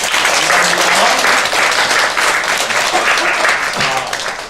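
A church congregation gives loud, sustained applause for the choir's first hymn of the new year at a New Year's Eve service. Dense clapping fills the room without a break.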